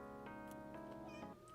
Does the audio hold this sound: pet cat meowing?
yes